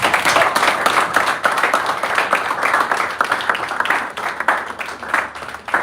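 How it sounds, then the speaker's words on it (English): A conference audience gives a round of applause for a speaker, a steady, dense patter of many hands clapping that runs for several seconds without pause. "round of applause for Vince"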